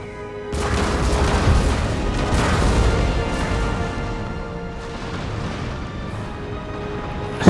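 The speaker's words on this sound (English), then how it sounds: "I don't know if many troops at all were killed in that volley from all our cannons" In the Empire: Total War video game, a volley of artillery cannons thunders in a dense, rolling series of booms that fades out gradually, followed by a sharp final crack.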